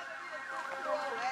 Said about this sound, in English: I can hear the ambulance and fire